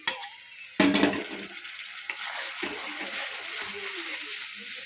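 Spices frying in a pan on low flame as a little water is added for a prawn and jackfruit curry, a sharp burst of sizzle after a clank, then a steady soft hissing with light stirring.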